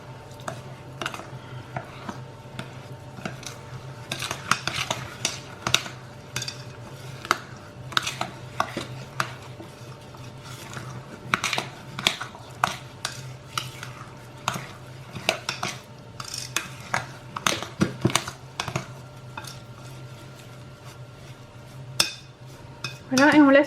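Semolina is mixed in a bowl for kalb ellouz, with a spoon scraping and knocking against the bowl in irregular clattering bursts, close by, over a low steady background hum.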